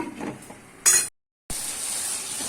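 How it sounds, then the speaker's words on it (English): Bitter gourd gojju sautéing in a pan over a medium-high flame, a steady close hiss and sizzle with a brief clatter, a short silent gap, then continuous sizzling. "We allow it to saute and cook for some more time"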